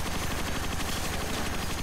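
Machine-gun fire in the Transformers: Rise of the Dark Spark video game: a continuous loud, rapid rattle of shots with no pause and no talking.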